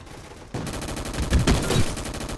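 Rapid bursts of gunfire in the Roblox Gunfight Arena shooter crack out in quick succession, louder and denser toward the end, with no talk over the shots.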